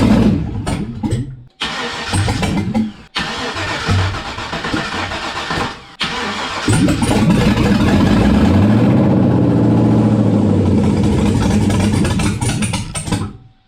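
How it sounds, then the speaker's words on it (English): Chevy 2500 HD truck V8, freshly rebuilt with new heads and cam, cranks through several short bursts, then catches and settles into a loud, steady, rough idle close by with no talking. "I'm going to start it back up again"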